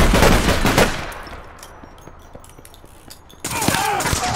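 A secondary weapon fires in the online game APB Reloaded: loud, rapid bursts of shots at the start, a quieter stretch with scattered pops, then another dense, loud volley.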